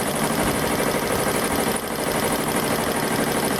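A Blue Sky 1501 embroidery machine sewing at speed makes a dense, continuous mechanical rattle and hum, loud and close, with no voices.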